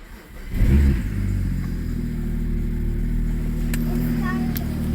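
A BMW 535xi wagon engine cranks and catches after a Walbro fuel pump install, a short starter whir rising into a firm rev, then settling to a steady, even idle rumble close by for the rest of the clip.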